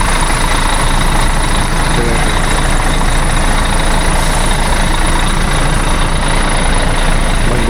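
Rimba Raya intercity bus engine drones loud and continuous from the rear, a heavy, steady diesel hum with road rumble for nearly eight seconds.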